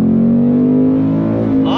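A 2022 Ford Mustang GT V8 pulls hard on throttle, its loud, steady engine note climbing gradually in pitch from inside the car, with a brief shift in tone near the end.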